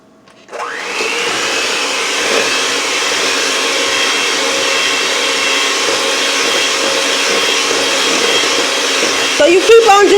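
An electric mixer blends pumpkin roll cake batter with a loud, steady motor whine that starts abruptly and runs continuously, with some clattering near the end.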